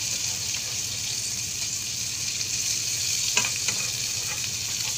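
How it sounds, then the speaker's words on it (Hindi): Chicken kebabs shallow frying in oil in a pan, a steady bright sizzle with a few small pops and clinks, close and continuous with no speech. "दूसरी साइड से भी हमें ऐसे ही शैलो फ्राई करना है"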